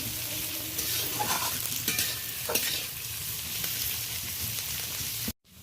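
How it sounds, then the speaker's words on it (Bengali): Chopped onion stirs and fries in a pan, a steady close sizzle with occasional scraping strokes of a spoon, cutting off abruptly at the end. "পেঁয়াজটা বেশ ভালো করে নাড়াচাড়া করে নিচ্ছি।"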